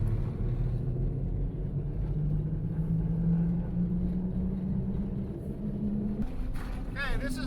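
A Snow Jeep on tracks driving at about 30 mph over a hard-packed snow road, a steady loud low rumble and droning engine throughout, with a brief rattle near the end.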